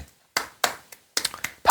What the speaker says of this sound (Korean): 박수를 쳐드립니다